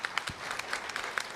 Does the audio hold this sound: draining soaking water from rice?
no